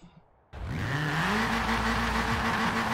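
A turbocharged VW Golf on BBS wheels roars to life in a Forza Horizon 4 race, its engine surging from near silence into a loud, sustained rising rev with steady harmonic drone as it accelerates hard.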